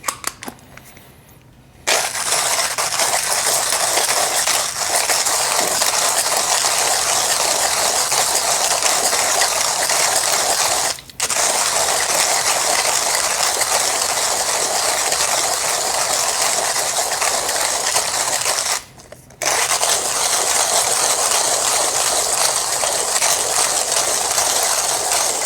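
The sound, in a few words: Turin H40 coffee grinder grinding 20 grams of coffee beans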